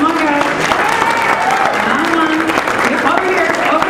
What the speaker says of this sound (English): A round of applause for the WCF board.